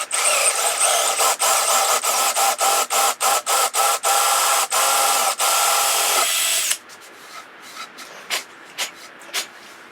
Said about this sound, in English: let's drill out this one